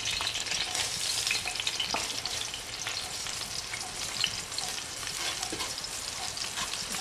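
Garlic and salt fry in oil for red rice, a dense, continuous close sizzle with small crackles and occasional stirring, steady in loudness with no one speaking.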